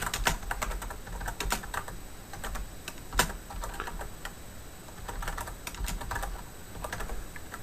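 Typing on a computer keyboard, close up: irregular bursts of crisp key clicks with short pauses between them, one louder tap standing out partway through, and no talking.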